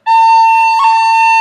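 A sustained bagpipe A, played for Scatter The Mud, with one quick pip ornament as the B finger flicks up and down near the middle, loud and continuous with no talk.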